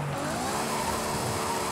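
A car engine revving in the Forza Horizon 5 racing game, a steady mid-pitched whirring drone held throughout a brief moment, fairly quiet and with no talk over it.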